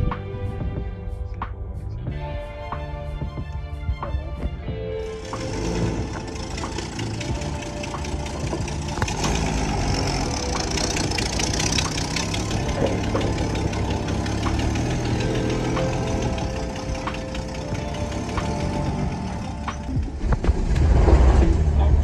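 A rusty Holden HX panel van's engine runs steadily throughout, a loud continuous mechanical rumble with knocking and vibration that rises slightly near the end, heard close up without speech.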